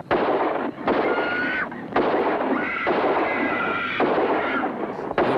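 Gunshots from a movie scene: a series of loud, crackling bursts of fire in quick succession, some followed by ringing tones, with no pauses of silence.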